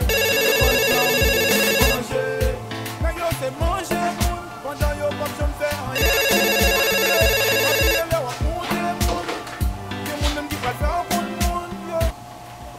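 A telephone ringtone plays loudly in bursts over a dense musical background, its bright repeating tones coming back after a pause with continuous music beneath throughout.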